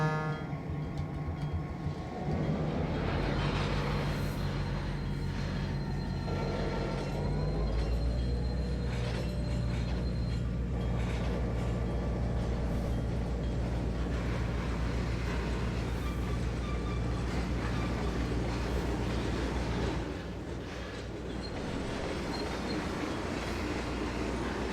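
A simulated train in Trainz 2022 pulls its cars forward, with a steady low rumble of locomotive engine and rolling wagons, metallic clanks and a rise in drive after a few seconds, continuous and close, with no talk.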